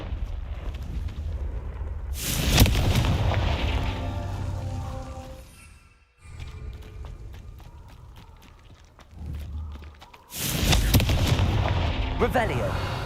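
Two heavy blasts from the Confringo explosion spell in Hogwarts Legacy, a loud booming burst near the start and another near the end, with rumbling impacts and scattered crackles between them.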